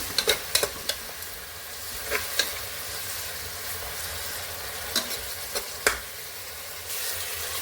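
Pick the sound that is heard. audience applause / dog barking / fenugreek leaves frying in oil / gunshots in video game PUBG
fenugreek leaves frying in oil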